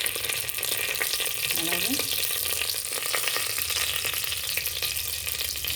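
Bay leaves sizzling in a generous pour of hot oil for goat head curry, a steady crackling fry that runs throughout with a brief murmured word.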